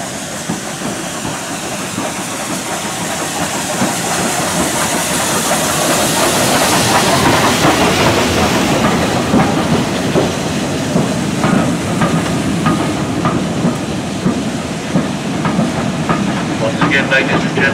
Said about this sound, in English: as the train approaches the station